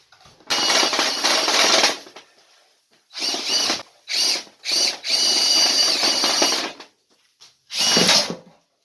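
A power drill whines in several bursts while drilling out a chimney in remote Alaska, one long run and a few short ones, with brief quiet pauses between them.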